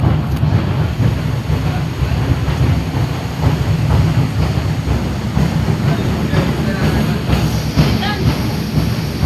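Local passenger train running on rails toward Malangad, heard from inside as a continuous loud rumble with wind noise and clatter throughout.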